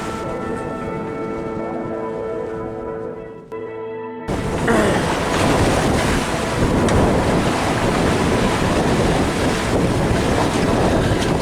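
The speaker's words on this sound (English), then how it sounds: "So WildChild is sailing right now upwind past St. Martin" Sailboat WildChild beating upwind in Caribbean trade winds off St. Martin: loud, steady wind buffeting the microphone over rushing, splashing waves against the hull, continuous and close, with a brief quieter lull before the roar returns.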